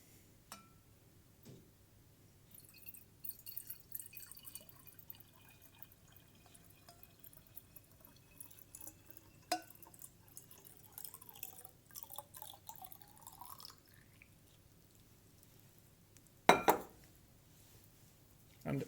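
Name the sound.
round bottom flask being filled with blue-dyed water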